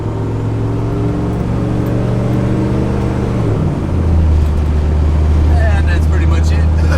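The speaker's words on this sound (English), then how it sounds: "Hear the turbo spooling now." An old diesel truck engine drones and then shifts as a rising turbo spooling whine builds, loud and close, with a brief high whistle near the end.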